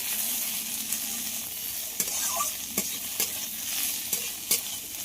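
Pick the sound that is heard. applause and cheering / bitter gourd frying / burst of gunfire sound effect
bitter gourd frying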